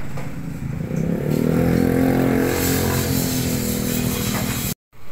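Honda Raider 150 Fi motorcycle engine, freshly repaired after a crash with greased bearings, revving steadily at close range with a strong low rumble that swells and holds before cutting off abruptly near the end.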